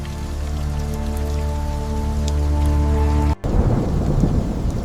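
Heavy thunderstorm with steady rain pouring down and a deep, rolling thunder rumble, loud and close, briefly cutting out before the downpour continues.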